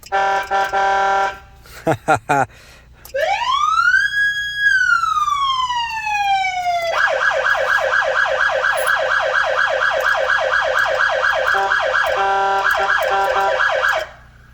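A loud police siren cycling through several modes: short blips, a rising and falling wail, then a rapid yelping warble held until the end.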